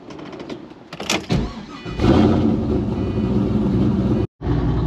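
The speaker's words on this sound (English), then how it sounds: "I'm gonna start the car up, let it warm up" A Pontiac GTO with a brake problem cranks briefly, catches, and settles into a loud, steady idle close by, with a short cutout near the end.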